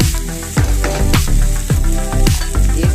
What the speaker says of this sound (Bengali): আলুগুলো দিয়ে খালি নাড়াচাড়া করে